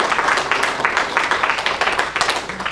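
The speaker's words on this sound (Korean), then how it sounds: "박수로." A church congregation breaks into applause during a service, a dense, lively patter of many hands clapping close by that continues steadily without voices over it.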